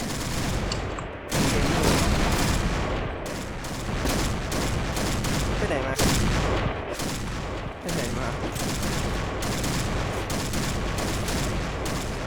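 Gunfire rattles through a round of a first-person shooter game, with dense, loud bursts of shots that stop briefly and then resume across the whole stretch.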